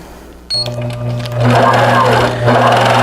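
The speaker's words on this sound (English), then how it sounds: "Then I would turn my machine on" A longarm quilting machine starts up and runs steadily while quilting along a paper pantograph pattern, its motor hum rising after a brief start and continuing loud and close.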